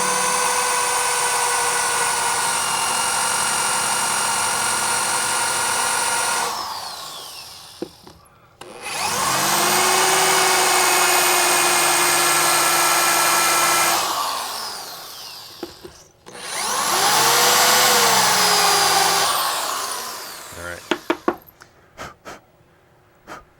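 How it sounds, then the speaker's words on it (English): A power drill countersinks holes during a Sega Outrun arcade cabinet repair, three sustained high whining bursts a few seconds each, separated by brief pauses, ending with several small sharp taps. "let me see if I can countersink it now"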